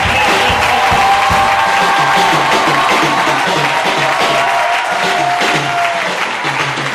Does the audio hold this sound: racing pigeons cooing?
no